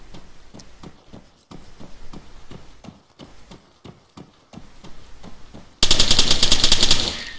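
Gunfire in the Arma video game: a string of evenly spaced single shots, then a loud dense burst of rapid automatic fire near the end, no talking.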